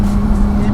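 A Jaguar F-Type SVR, a front-engined GT car, drives with a loud, steady engine drone and a sustained low hum in a brief burst.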